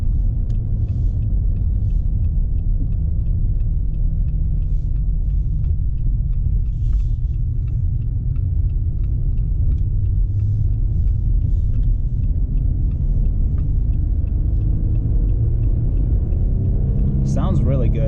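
A 2021 Jeep Gladiator Mojave cruising at highway speed gives a steady, loud low rumble of engine and road noise throughout, with a brief higher squeak near the end.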